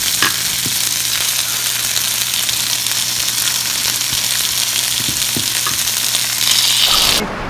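Paneer and aloo tikka coated in masala sizzle steadily on a preheated cast iron tawa, a dense continuous hiss with occasional soft pops and clicks, growing briefly louder near the end.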